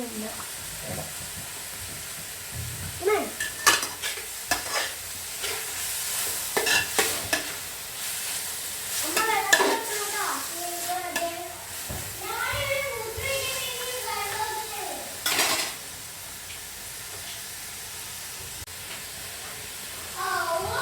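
Onions and green chillies sizzling in a pan for a home chicken curry, a soft steady hiss broken by scraping stirs and clinks, with a voice talking intermittently over it.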